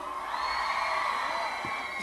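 A live concert crowd in Umari, Ceará shouts and cheers together as a sustained, loud roar with high whoops, filling the space without any clear speech.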